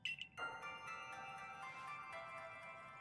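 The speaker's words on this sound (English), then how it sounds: "Your ARC phone is beeping." The ARC phone in Pokémon Legends: Arceus beeps and rings, a few quick tones followed by a sustained, faint electronic chime over quiet game ambience.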